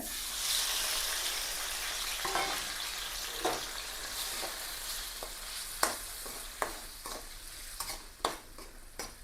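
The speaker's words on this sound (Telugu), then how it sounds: "ఇప్పుడు ఇందులోకి మనం టమాటా బొక్కలు కదా టమాటా బొక్కలు కూడా వేసుకుందాం ఆయిల్లోకే" Tomato pieces fry in oil for a chicken gravy curry, a loud continuous sizzle that gradually eases while sharp spatula scrapes and clicks punctuate the second half.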